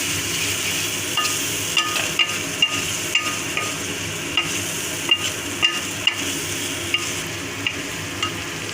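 Spice masala for a Bengali banana flower curry sizzles steadily in a pan after a splash of water, with a spoon scraping and tapping the pan every half second or so, close and continuous.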